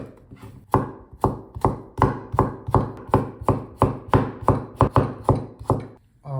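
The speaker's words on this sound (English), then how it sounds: "Firstly, I'll cut the zucchini." Knife chopping zucchini on a cutting board for vegan tempura sushi: about fifteen crisp, evenly spaced cuts land close and clear, with no talk.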